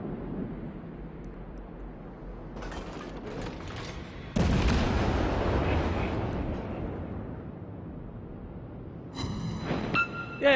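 Naval artillery shells firing and exploding in a warship video game, with the Erie ship under attack: a few sharp booms, one heavy blast midway followed by a long rumbling decay, then further crackling impacts.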